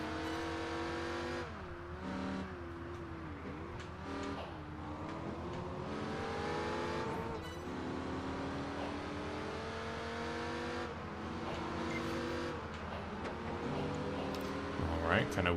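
Racing cars in Project Gotham Racing 4 on Xbox 360, engines droning and revving steadily with shifting pitch as cars jostle in a pack, with someone talking over the engine noise throughout.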